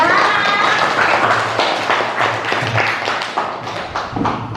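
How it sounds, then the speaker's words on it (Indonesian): Children in a classroom clap together, a burst of loud, close, somewhat ragged clapping that gradually thins out, with a teacher's voice briefly over the start. "Tepuk tangan"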